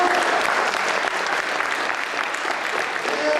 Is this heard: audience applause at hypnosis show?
yes